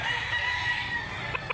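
Roosters on a gamefowl farm of Grey and Mclean bloodlines, a steady crowing and clucking din filling the air, with a couple of sharper calls standing out near the end over low background rumble.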